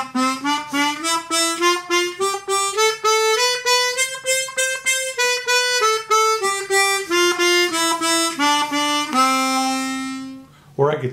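Chromatic harmonica played with tongue tapping on a scale: a rapid run of crisp, separated notes, each articulated by a quick tap, climbing and shifting pitch over about eleven seconds and ending with a held tone.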